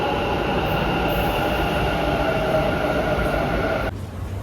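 Steady, loud rumble and rolling hiss inside a metro train heading toward MG Road, with a constant high whine above it. The noise drops sharply near the end.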